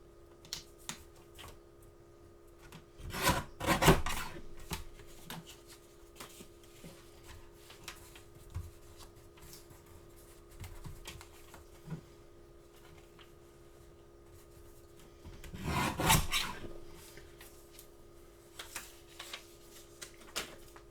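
Scissors trim a piece of alcohol ink artwork in two short bursts of close crisp cutting and paper rustle, separated by quiet handling noises and small ticks against a low steady hum.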